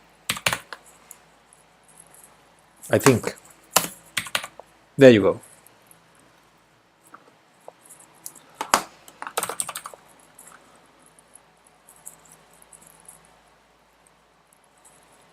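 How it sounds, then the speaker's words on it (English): Computer keyboard clatters in short bursts of keystrokes during an online chess game, with pauses between flurries and a person murmuring briefly in between. "And I'm gonna play with the keyboard"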